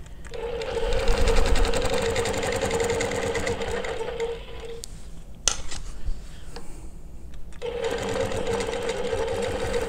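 A longarm quilting machine stitches a Baptist fan row with rulers, its steady close mechanical whir running most of the clip, pausing briefly midway with a sharp clack before starting again; no voices.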